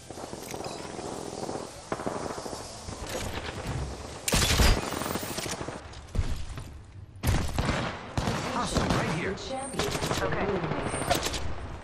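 Apex Legends gunfire: loud rapid automatic bursts and heavy single shots crackle in a chaotic exchange, with brief pauses between volleys and a sharp blast midway, close and intense with faint game voices mixed in.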